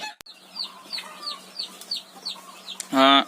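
Hens cluck softly and repeatedly in a quiet space inside a poultry farm, with a louder squawk at the end.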